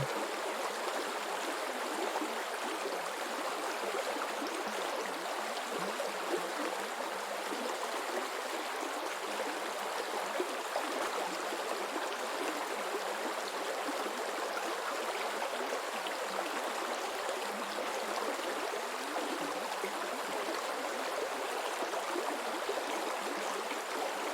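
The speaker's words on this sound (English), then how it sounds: "imagine standing by a quiet stream" Water flows and burbles continuously in a small stream, a soft, steady rush with no other sounds.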